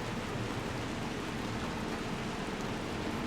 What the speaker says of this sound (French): Bon, par contre, il pleut un peu, hein.